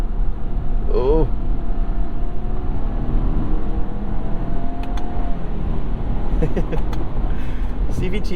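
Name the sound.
Subaru Outback Wilderness CVT simulating gear changes while accelerating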